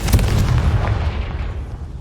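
The Confringo spell in Hogwarts Legacy sets off a sharp, heavy explosion with a deep boom at the start, followed by a rumbling decay of debris that fades over about two seconds.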